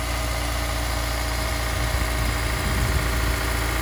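With the engine bay open, a Honda S2000 AP1 idles close up, giving off a steady low rumble and vibration at an even, unchanging level, with no talking.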